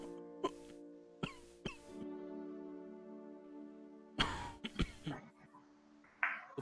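A person coughs several times in short sharp bursts amid sustained tonal hum, then a cluster of harsher coughs follows, close and fairly quiet.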